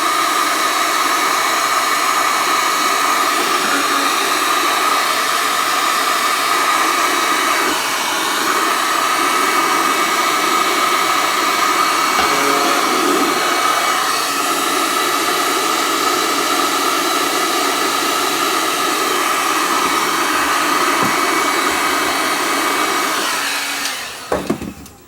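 Heat gun blowing steadily on a seized aluminum turntable platter, a loud continuous whooshing roar holding for about 24 seconds before cutting off abruptly.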